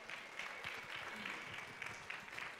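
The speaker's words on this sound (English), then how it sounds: "Give them a round of applause." Audience applause greets panelists taking the stage at a community food event, a steady, moderately distant clapping that holds at an even level for a couple of seconds.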